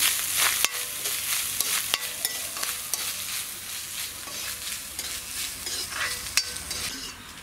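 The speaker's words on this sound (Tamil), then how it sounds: "இதோடது கொஞ்சமாக தேங்காய், வந்து நல்ல ப்ரௌன் கலராக வறுபடணும்." Grated coconut fries and is stirred in a pan until brown, giving a steady close sizzle with scraping stirs and occasional sharp clicks of the spoon against the pan.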